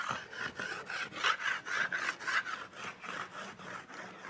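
Rhythmic rasping strokes of sanding or filing along a wooden bow limb to take off rough edges, a steady back-and-forth scrape repeating about every third of a second, close and fairly loud with no talk.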